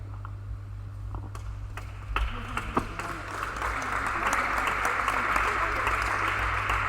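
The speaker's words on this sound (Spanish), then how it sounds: "Aplaudid, si hay que aplaudir, se aplaude." An audience applauds at a talk on improving basketball by changing its rules, the clapping swelling from scattered claps into a steady, moderately loud round heard over a low hum.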